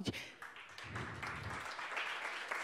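Applause from an audience at a talk fills the room as continuous, moderately faint clapping that holds steady throughout.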